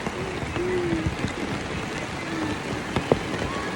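Steady rain pours down outdoors, a dense close hiss with scattered drops and patters continuing throughout.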